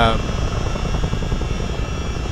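Helicopter in a flight simulator game flying over Pelham, Alabama, a steady loud rotor and engine drone with rapid low thumping, continuous throughout.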